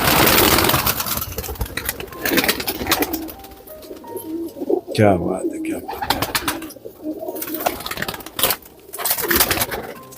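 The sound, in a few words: racing pigeons cooing in a loft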